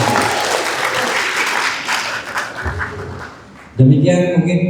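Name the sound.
applause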